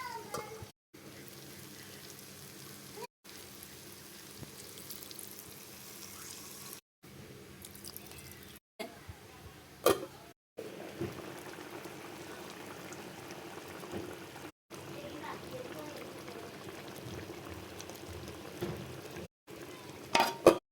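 Prawns cook in a pan with a soft, continuous sizzle and gentle bubbling, quiet and steady, broken by occasional faint scrapes and brief pauses.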